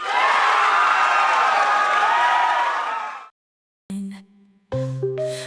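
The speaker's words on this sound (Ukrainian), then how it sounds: "Оплески, оплески." A loud crowd at a Eurovision semi-final bursts into applause and cheering, a dense roar of clapping and shouts that fades out after about three seconds, followed by silence and then the opening notes of a song.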